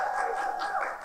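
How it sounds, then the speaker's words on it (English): Brief burst of audience clapping at a live radio event, a short patter of hands lasting about a second. "the folks clapping at sugar in the grits"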